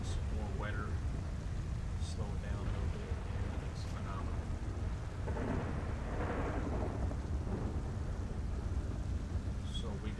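Thunder rumbles under steady rain in GTA 5 roleplay, with a dense, constant downpour and low rolling booms throughout.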